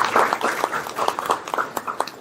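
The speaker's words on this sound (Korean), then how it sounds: "힘찬 박수 부탁드립니다" An audience at a capital-markets event applauds a candidate's arrival. The clapping is scattered and fairly thin, with no voices over it.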